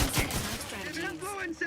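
Gunfire in the video game The Outer Worlds 2, a quick sharp shot burst at the start followed by ringing game sounds, brief and close.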